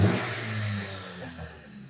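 Dodge Journey 2015 2.4L engine, with a red lightning-bolt warning light on, revving up then easing off, a close, steady mid-pitched engine roar settling back over two seconds.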